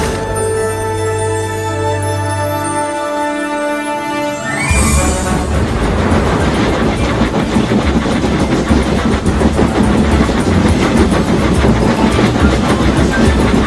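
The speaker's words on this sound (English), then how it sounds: "Seven engines from the other railway were coming along the line." Animated steam engines, seven of them, coming along a railway line: a steady sustained whistle-like tone gives way to a loud, continuous rolling rumble with rapid rhythmic clatter of wheels on track.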